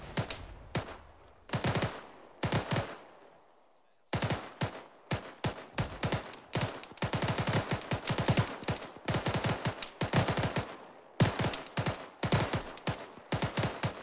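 Sustained automatic gunfire in the tactical shooter ArmA 3, repeated rapid bursts close by with short gaps, one longer pause early on, loud and dense throughout.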